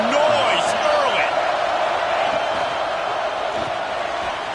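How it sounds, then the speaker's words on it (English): Dense roar of a packed college football stadium crowd at Michigan during an Oregon game, a loud sustained wash of voices and cheering with scattered shouts and no letup. "This crowd bringing the energy and noise early."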